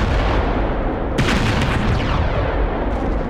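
Loud burst of video game gunfire in a Warhammer-style shooter with a heavy bolter in play, a sharp volley at about one second followed by rattling shots over a constant roar of battle noise.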